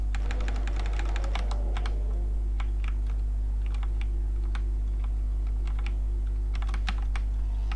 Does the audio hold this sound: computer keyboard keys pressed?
yes